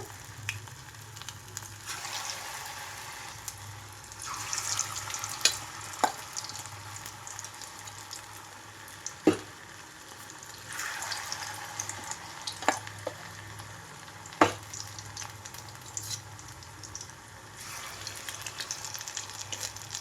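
Sweetcorn pakoda batter frying in a pan of oil: a steady crackling sizzle throughout with occasional sharper pops and brief stirring or scraping touches, close up, no talking.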